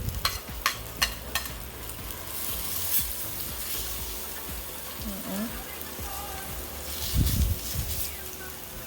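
Garlic sizzles in melted butter in a Saladmaster pan, a steady close frying crackle with a few scraping stirs, and a voice speaks briefly over it.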